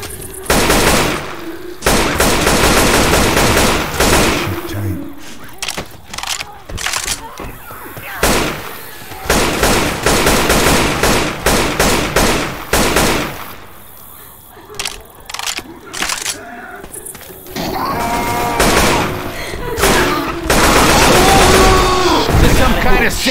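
Rapid gunfire from co-op play in the zombie shooter Left 4 Dead 2, set in The Parish campaign, loud and dense bursts nearly continuous with brief lulls, under excited voices of players talking.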